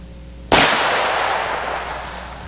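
A single loud gunshot from a Kimber pistol fitted with a 460 Rowland conversion kit, firing a 185 grain bullet over a chronograph; one sharp close crack with a long ringing decay and no talk.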